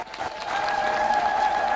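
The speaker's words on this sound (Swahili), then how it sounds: "Tumkaribishe kwa makofi tafadhali." Applause from a church congregation greeting a bishop arriving to lead Mass at a deanery family day, a steady wash of clapping that swells and holds throughout.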